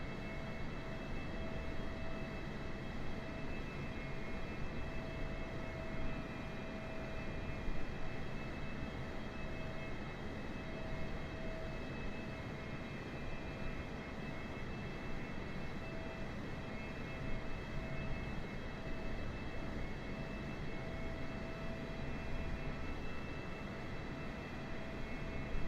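Boeing 747 engines in Microsoft Flight Simulator 2020, flying in an old Swissair livery, producing a steady, unbroken drone with a constant whine on top that holds evenly at moderate level throughout.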